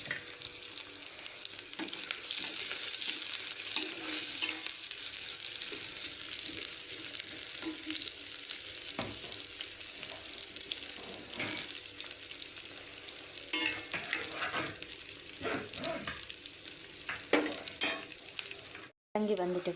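Chopped onion frying in oil for a Sri Lankan sundakkai and dried anchovy stir-fry, a steady loud sizzle with occasional clinks and scrapes, running alone almost throughout before cutting out near the end.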